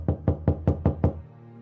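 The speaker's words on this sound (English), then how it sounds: "when there was a knock at the door." Six sharp, evenly spaced knocks on a door, close and loud, each with a brief hollow thud, fall in a quick steady rhythm and then stop, leaving a short faint tail.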